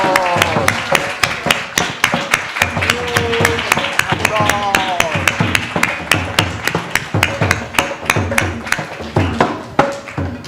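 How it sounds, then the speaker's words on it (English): Audience applause at a Gita Jayanti festival gathering: dense, steady clapping fills the whole stretch at close range, with voices talking over it throughout. "One more round of applause for these spiritual visionaries"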